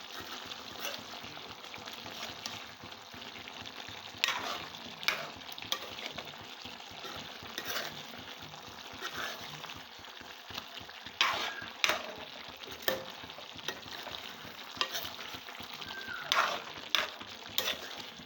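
Chicken curry with chili powder frying in a pan while being stirred, a soft continuous sizzle broken by repeated scraping and clinking strokes of the spoon, fairly quiet and without voices.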